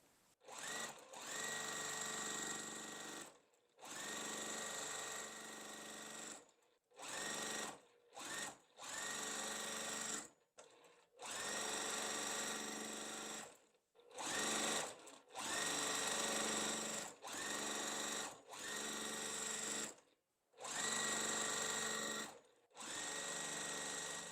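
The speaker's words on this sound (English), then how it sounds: "I'm going to do now is just sew the leaf part first" A sewing machine stitches the leaf piece of a quilt block in a run of bursts, some long and some short, separated by brief pauses, close and clear with no talking.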